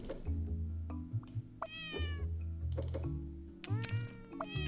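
Several chirpy, rising meows from a game cat in Cats Organized Neatly come one after another, close and clear above a soft, continuous background tune.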